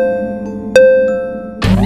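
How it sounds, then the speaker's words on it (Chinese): A single bell chimes once, a sharp strike with a clear lingering tone, in a guess-the-character quiz game, followed by a short burst of another sound at the end. "就只有一个铃铛呀。"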